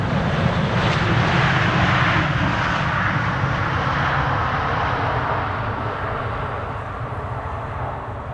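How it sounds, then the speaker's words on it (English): A KLM Boeing 777-300 jet arriving at Amsterdam Schiphol after a long-haul flight from Cape Town, its engines giving a loud, steady roar close by that slowly fades toward the end. "KLM 598 arrived from Cape Town, South Africa, 777-300 10 hours 52 minutes, the flight time"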